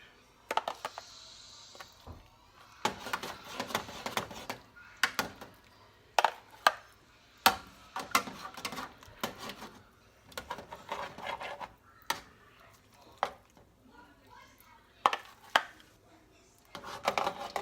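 Seasoned baked chicken gravy mixture being stirred in a pan, giving repeated close scraping and clacking strokes in an irregular rhythm, with short quiet gaps between the sharper hits and no talking.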